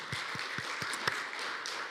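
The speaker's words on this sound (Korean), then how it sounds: "격려 박수 한번 해주시면 좋겠습니다" Sparse hand claps from a church congregation, a handful of distinct low thumps spaced evenly at first, then thinning out, faint and distant in a reverberant room with no talking.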